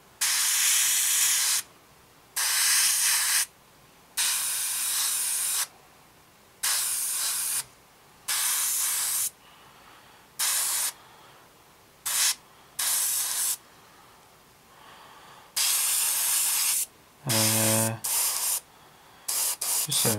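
An airbrush or spray can lays light coats of paint on a Tamiya 1/48 Spitfire Mk.1 scale model, heard as about a dozen short bursts of close, bright hiss separated by brief silences.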